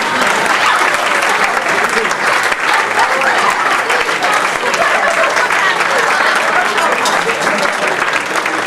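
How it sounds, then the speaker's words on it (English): Guests at a wedding reception break into loud, close, sustained applause that keeps going at a constant level, with a little crowd noise mixed in. "Just give them all a big round of applause."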